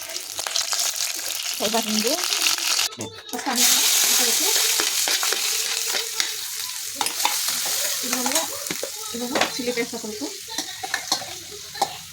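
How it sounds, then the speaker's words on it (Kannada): Ground masala of chilli, curry leaves and cumin frying in a pan, a steady close sizzle with repeated scraping stirs and one sharp clatter near the start, with no talking. "ಇದನ್ನೆಲ್ಲ ಫ್ರೈ ಮಾಡ್ತೀವಿ"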